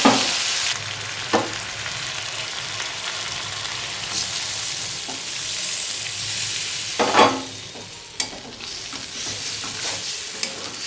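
Fried potatoes and a spice paste sizzle in a frying pan while a spatula scrapes and stirs, with sharp clacks against the pan at intervals over a steady hiss.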